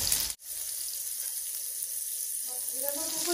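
Rohu fish frying in a cooking pot sizzles steadily after a brief cut, with faint stirring clatter near the end.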